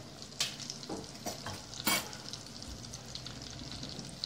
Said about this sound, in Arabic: الزبده بتسيح